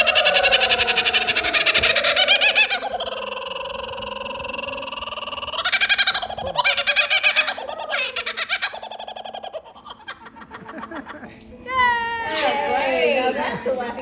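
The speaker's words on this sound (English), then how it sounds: "Now that's a laughing kookaburra." A laughing kookaburra gives its loud, rising, cackling call at close range, with long rolling chuckles and hoots. People talk and laugh around it, and the bird calls in bursts between their voices.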